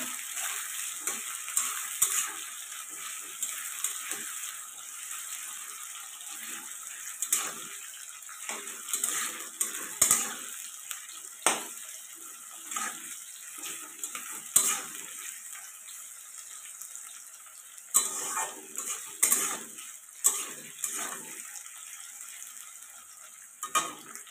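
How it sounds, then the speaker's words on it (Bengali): Onions fry in a pan for a mutton curry, giving a soft, continuous sizzle broken by scattered scraping and clinking as a spoon stirs them. "পেঁয়াজটা তোমার ভালো করে ভাজা করে নিতে হবে।"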